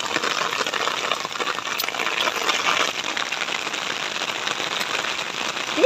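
Steady rain falls on a wet afternoon, a dense, continuous hiss of drops hitting surfaces close around, with a few brighter splashes and no speech.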